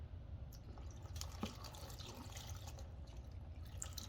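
Water poured from a heavy container into a rock tumbler barrel by children, a soft continuous trickle and splash running steadily without pause, fairly quiet.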